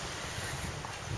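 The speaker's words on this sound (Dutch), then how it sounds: "Het waait een tikje harder dan we gedacht hadden." Steady wind roars across open water at Muiderberg on a breezy May morning where sailboards are out, a constant broadband rush with low buffeting on the microphone and no talking.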